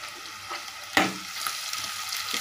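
Chopped green chillies sizzle in a hot pan for Rajasthani kadhi, a steady close frying hiss with a sharp burst of crackle as they drop in, then continuing sizzle.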